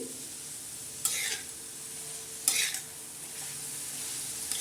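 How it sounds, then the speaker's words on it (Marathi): Green chilli, tomato and garlic thecha is stirred in a pan, giving a steady soft sizzle with two brief louder scraping stirs, close and alone without talk. "ग्रीन असा छान हिरव्या कलरचा मस्त ठेसा तोंडाला चव वाढवणारा आपण आज बनवत आहोत डब्याला बी झटपट नेण्यासाठी पोळीबरोबर ज्वारीच्या बरोबर आणि असं छान असं हे परतून घ्यायचं आहे"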